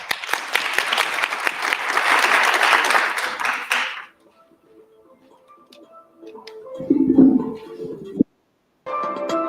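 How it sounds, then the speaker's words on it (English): Audience at a national women's sport advocacy conference breaking into a round of applause, a steady mass of clapping lasting about four seconds, then a hushed room with faint ticks and a brief voice. "Let's give them a round of applause."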